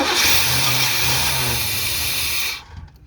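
The engine of a 1991 Cadillac with a newly replaced timing chain revs hard and steadily for over two seconds, then cuts off abruptly, leaving a faint rumble.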